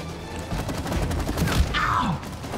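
Shooting in the video game It Takes Two: rapid, loud bursts of gunfire in a continuous stream, with a heavier thump partway through and bright metallic hits toward the end.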